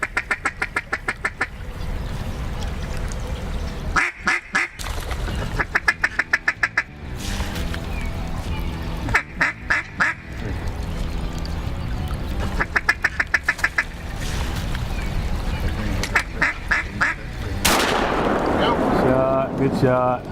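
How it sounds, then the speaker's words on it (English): Flock of ducks quacking overhead during a waterfowl hunt, repeated bursts of loud quacks and calls coming in clusters over steady outdoor noise, with a voice talking at the end. "they look up and the sky is full of ducks headed their way"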